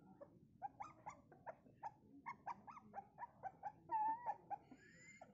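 Several newborn puppies whimper and squeak in quick, repeated high-pitched cries, close by and fairly quiet, with a few longer whines.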